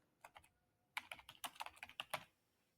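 Quick, light keystrokes tap on a computer keyboard: a short pause, then a fast burst of several clicks, quiet and close, with no speech.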